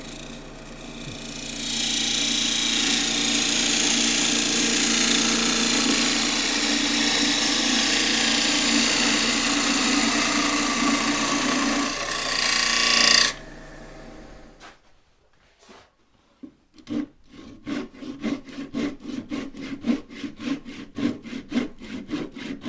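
A woodturning lathe cuts a line and then a recess into the base of a prototype glasses stand, giving a steady, loud, continuous scraping hiss for about thirteen seconds that gives way to quieter, intermittent cutting scrapes and taps.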